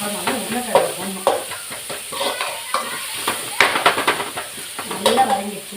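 Potatoes sauté in a pan with a soft sizzle under repeated scraping and clattering stirs of a spoon against the metal, and faint speech comes and goes.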